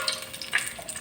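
Whole spices sizzle in hot oil in a pan for tomato rice, a soft continuous frying hiss with light crackles, quiet and close, and no voices.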